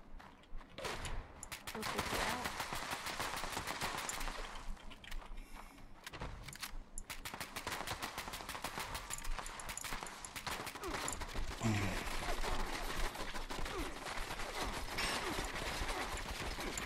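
Automatic turrets in the Fallout 76 video game fire continuously during a defend event, a dense rapid stream of gunshots and bursts layered with clanking game mechanisms, loud and sustained throughout with brief dips.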